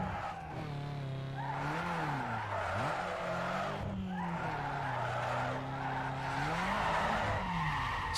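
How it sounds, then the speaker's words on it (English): A car drifts in Need for Speed Underground 2, its tyres skidding and squealing in long sliding tones with the engine pitch swooping up and down, fairly quiet. "What the hell is that drift?"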